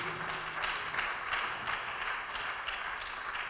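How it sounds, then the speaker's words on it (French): Congregation at a church worship service applauding and acclaiming Jesus, dense rhythmic clapping mixed with crowd voices, moderately distant and continuous. "Acclame très très fort Jésus"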